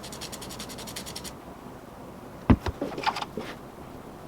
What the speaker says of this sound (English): Gonna give it the scuff beforehand.